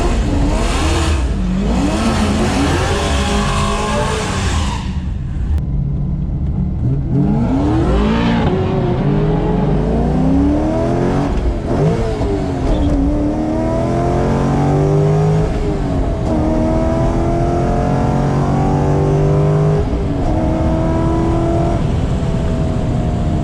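A Corvette C5 Z06 drag launches at a street car event, its engine roaring loud and near, rising through gears with shift breaks and sustained high revs, with no talking.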